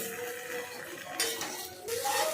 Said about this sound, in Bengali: এখন আলু, পেঁপে, চুই ঝাল একসাথে দিয়ে মশলার সাথে মিশিয়ে দিচ্ছে।